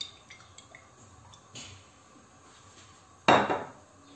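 A frying pan holding a little oil is handled in a home kitchen: a few faint light clinks, then one louder metallic clatter near the end, with no talking.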